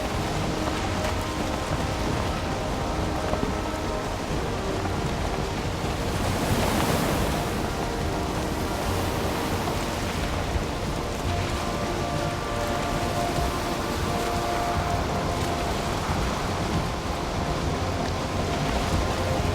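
Sea waves washing continuously around a sailing boat in the Valheim video game, a steady broadband surf wash with a brief louder swell midway and no talking.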